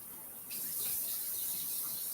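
A kitchen sink tap turns on and runs in a steady, quiet rush of water while freshly dug garden potatoes are cleaned.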